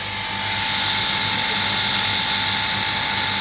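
Refrigerant gas rushes out of the opened small pipe of a large LG refrigerator's compressor, a loud continuous hiss with a steady high whistle that swells in the first half second and then holds level, close up.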